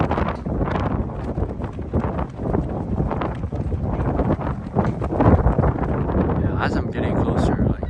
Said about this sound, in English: It's lucky it's a windy day so that we can actually see it.